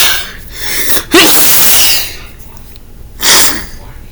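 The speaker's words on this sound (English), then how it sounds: "Just me sneezing." A person lets out two loud, close sneezes a couple of seconds apart, each preceded by a sharp, gasping intake of breath.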